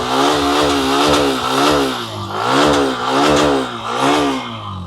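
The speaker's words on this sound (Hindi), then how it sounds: "एग्जॉस्ट नोट सुनो, थ्रॉटल देता हूँ।" Hero Xtreme 125R 125cc motorcycle revving hard with the throttle blipped repeatedly, the exhaust note rising and falling in several loud surges, close by with no voices.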